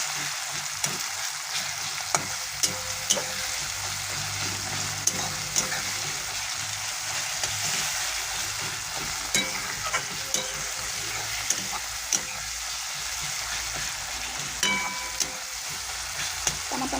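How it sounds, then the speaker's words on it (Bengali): Tomatoes for an egg curry fry in a pan with a steady sizzle, while a spoon scrapes and stirs in sharp intermittent clicks, close and alone without talk. "টমেটোগুলো ভালো করে গলিয়ে নেব।"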